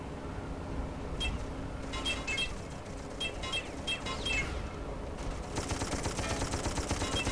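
Rapid machine gun bursts and gunshots from the first-person shooter Darkest of Days, loud and repeated in a dense battle with continuous crackling fire and no talking.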